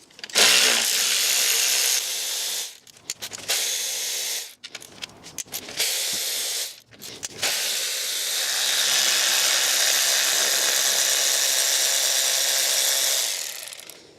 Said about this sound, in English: I'm just going to start removing all of the bolts. Of course the bolts are 10 mils.